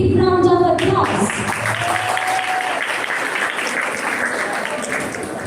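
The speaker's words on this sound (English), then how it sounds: "Let's give them a big round of applause." An audience breaks into applause after a live dance performance on stage, as a musical tone fades out at the start; the clapping then settles into a full, sustained roar of hands from a large crowd.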